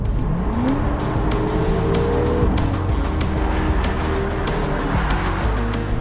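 A Porsche 911 Carrera GTS is heard driving, its engine note rising steadily under acceleration with a continuous loud roar and road noise throughout.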